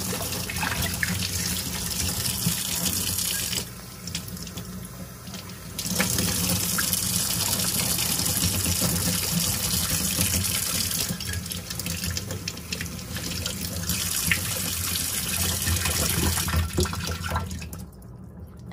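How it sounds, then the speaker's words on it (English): Hot water runs from a tap to rinse out a guinea pig water bottle, a steady close gushing stream with brief breaks and changes in flow, no talking. "use hot water to rinse the rest of it out."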